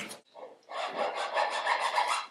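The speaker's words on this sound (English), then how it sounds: "just go over here and then push down, and scraper will track down the curve" A woodworking hand scraper is pushed along a curved wooden surface while building a Townsend document chest: a brief rasp, a short pause, then one longer, close, scratchy scraping stroke.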